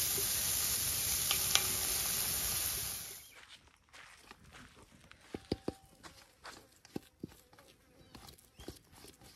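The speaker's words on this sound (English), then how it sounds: "The onion and the bacon, we're just browning off before we add it to the mashed potatoes." Onion and bacon browning in a camp oven over an open fire, a loud hiss of frying for about three seconds that cuts out, followed by scattered clanks and scrapes of the pot.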